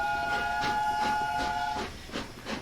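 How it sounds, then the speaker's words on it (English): The chime whistle of a B17 steam locomotive in Train Sim World 2021, a sustained multi-tone blast for almost two seconds that cuts off sharply, over rhythmic chuffing and hiss from the engine. "Yeah, a chime whistle, when actually the B17s wouldn't have had a chime whistle."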